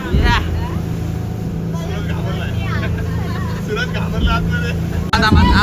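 A speedboat engine setting out from Mandwa drones with a steady, loud low hum throughout, under overlapping voices of people talking aboard, with a sharp bump near the end.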